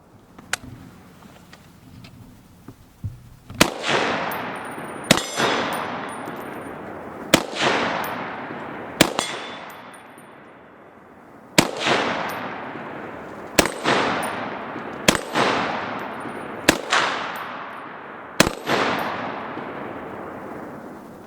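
A Springfield M1A Scout, a full-size rifle, fires about nine sharp, loud shots at uneven intervals. Each report rings out into a long echoing tail, with quiet ambient noise between shots.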